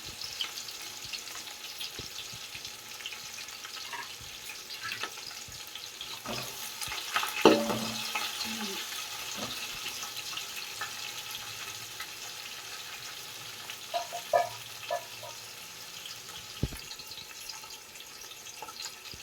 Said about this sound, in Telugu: పచ్చిమిర్చి కూడా వేసేసుకుందాం